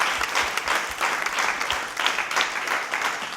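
Sustained audience applause acclaiming the Lord during a Christian television worship broadcast, steady dense clapping that fills the room without pause for a few seconds.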